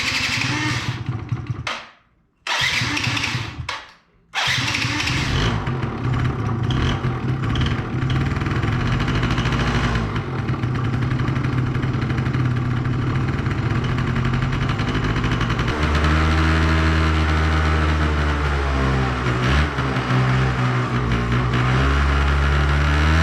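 A 2005 Yamaha YW50 Zuma 50cc scooter engine cranks in short bursts, then catches and runs loud and close, idling roughly and revving up and down.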